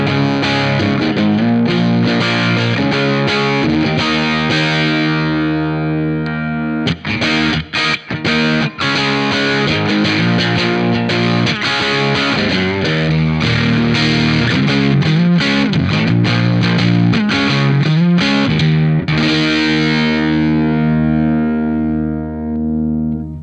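An electric guitar through a germanium fuzz preamp pedal plays sustained notes and riffs with a heavily distorted, thick, fuzzy tone, loud and continuous throughout, with no voices.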